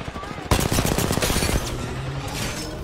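Rapid bursts of automatic gunfire from an Apex Legends match sound close and loud, then trail off into quieter distant shots, with a player's voice talking over them.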